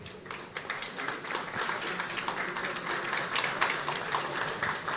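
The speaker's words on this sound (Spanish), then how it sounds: "démosles un aplauso, pónganse de pie los estudiantes" An audience at a university congress gives students a round of applause, a dense, steady patter of many hands clapping for several seconds in a large room, with no speech over it.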